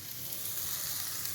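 Bitter gourd pieces fry in a pan with a steady, close, even sizzle that holds continuously throughout.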